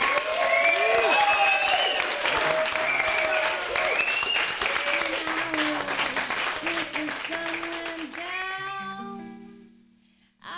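Crowd applause for a live band at a cultural center show, sustained clapping mixed with loud cheering and whooping voices, tapering off near the end.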